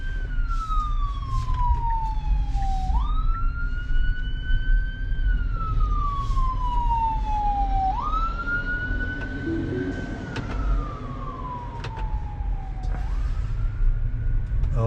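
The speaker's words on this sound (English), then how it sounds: "there was an emergency vehicle, a fire department fire vehicle" Fire department fire engine siren wailing as it passes, long rising and falling sweeps repeating several times over a steady road rumble heard from inside a moving car.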